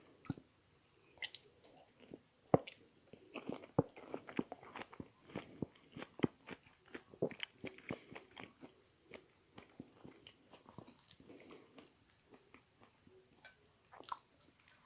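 Close, quiet chewing of baby squid cooked with garlic, with irregular crunchy bites, wet squishy mastication and faint jaw clicks repeating throughout, no talking.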